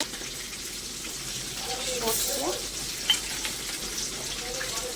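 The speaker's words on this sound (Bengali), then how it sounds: "তেলটা আমার গরম হয়ে গেছে, এবার মাছগুলো দিয়ে দেবো।" Kalbasu fish pieces fry in hot mustard oil in a wok, giving a soft, steady sizzling hiss that stays fairly quiet throughout, with a few faint clinks.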